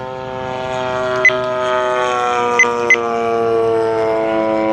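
Gilmore Red Lion Racer, a 35cc gas-powered RC model airplane, flying at just under half throttle, giving a steady buzzing engine drone with rich harmonic tone and slight pitch drift, moderately near, plus a few short faint clicks and no voices.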